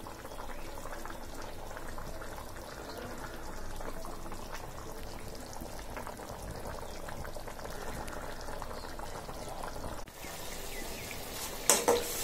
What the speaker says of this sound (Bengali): ইলিশের ঝোল হচ্ছে, রসা ঝোল,